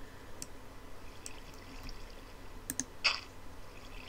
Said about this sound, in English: place our water. And make sure your water goes down in a pretty steady stream